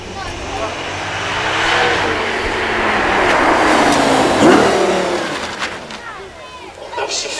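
A Porsche Taycan Turbo accelerates past at a supercar event, a loud electric-motor whine swelling in pitch and then fading as it goes by, with crowd noise and some talk over it.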